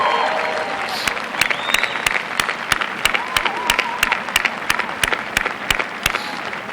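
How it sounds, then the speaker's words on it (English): A commencement crowd gives a sustained round of appreciative applause, with individual sharp claps standing out above the dense, even clapping of the large audience. "will you join me in a round of applause of appreciation for those standing around you"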